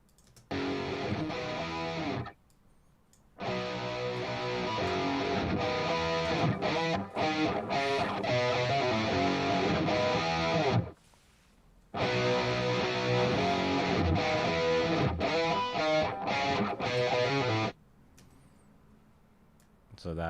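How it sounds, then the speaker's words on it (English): A doubled electric guitar part, bright strummed and picked phrases in bursts separated by short silences, fairly loud and close, with no talking over it. "We just have one guitar part, and it's just a doubled guitar."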